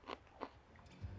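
A crunchy carrot from a colored carrot mix is bitten twice in crisp, close snaps, followed by a brief low rumble of chewing; no voices.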